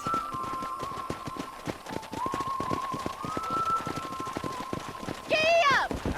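Horse hooves clip-clopping steadily in the Red Dead Redemption video game, a quick regular rhythm of soft thuds over a sustained tone, with a high whistle-like flourish near the end.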